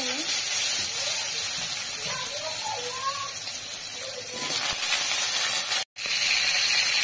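Potatoes frying in hot oil, a loud continuous hiss and sizzle close by that runs steadily with a brief cut near the end, while a voice talks faintly underneath.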